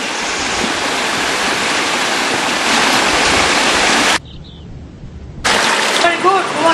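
River water rushes over stones in a forested valley at Mandu, a loud, continuous roaring wash close by that cuts out briefly, leaving faint chirps, before returning just as loud.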